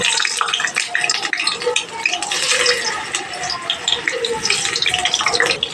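Boiled potatoes fry in hot oil over a medium flame, giving a loud, continuous crackling sizzle dense with tiny pops from start to finish.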